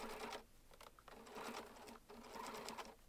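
A sewing machine stitches threads down the middle onto an overlock seam of a shopper tote bag, giving close, faint bursts of rapid mechanical whirring broken by short pauses, with no talk.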